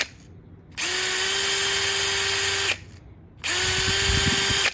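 DeWalt Atomic Compact Series cordless drill fitted with a dull bit, two loud, close bursts of steady high-pitched whirring separated by a brief pause, the second run bogging slightly as it bites.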